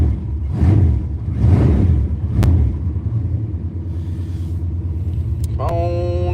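A car engine idling at high RPM with a suspected coolant temperature sensor fault gives a steady, fairly loud low rumble throughout, with a brief tonal whine near the end.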